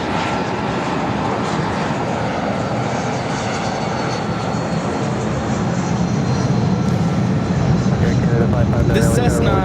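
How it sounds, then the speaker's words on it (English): A Cessna Citation Latitude business jet landing at Los Angeles International Airport produces a loud, constant engine roar with a broad rushing hiss, sustained evenly from start to finish. "This Cessna citation latitude coming in from San Jose, California, NetJets 542."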